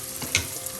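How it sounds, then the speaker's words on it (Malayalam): Brinjal frying and being stirred in a pan over a low flame, a soft, steady sizzle broken by one brief scrape of the spoon. "ലോ ഫ്ലെയിം ആക്കി ഒന്ന് വഴറ്റാം"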